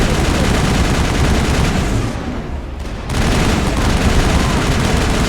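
Automatic turret fire in the video game Mass Effect rattles in loud, dense bursts, with a short lull near the middle before the shooting resumes at full intensity.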